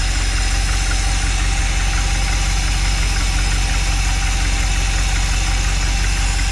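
An old Mopar motorhome engine with a freshly rebuilt carburetor idles loud and close, a steady, rough, continuous drone with a faint knocking pulse and no talk over it.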